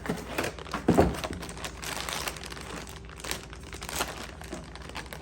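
Plastic packaging bag for a ZOSANYI cargo truck bed net crinkling and rustling while being handled during unboxing, continuous close crackle with a sharper burst near the start, no speech.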